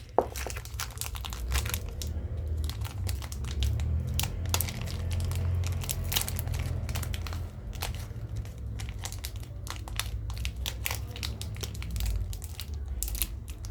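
A Pokémon Gengar card pack wrapper being opened, with continuous crinkling, crushing and tearing of foil plastic, close and fairly loud, in steady rustling bursts for over ten seconds without talk.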